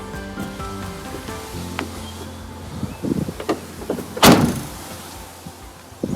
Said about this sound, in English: Twin sliding doors.